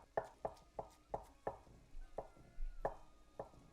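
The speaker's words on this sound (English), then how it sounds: "Just gonna cut it into small cubes, smaller than what I usually add." A knife cuts a 220-gram block of paneer into small cubes on a board, giving crisp, evenly spaced taps close up, about eight in a steady rhythm with no talking.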